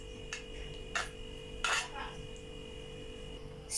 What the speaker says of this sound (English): Spread some strawberry jam over the base.